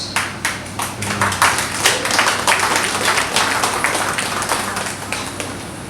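An audience after a live poetry performance claps in quick, uneven bursts, with many hands close by building into steady applause before it thins out.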